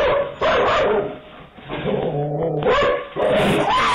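A dog barks loudly and close on a walk outdoors, three bursts of harsh bow-wow barking separated by brief whimpering gaps.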